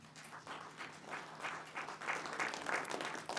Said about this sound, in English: So please clap, everyone who wants safety.